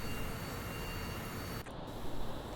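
Aircraft flying in during a Pearl Harbor 1988 naval battle in Sea Power: a steady, faint jet-engine hiss and drone with a brief dip near the end, no talk.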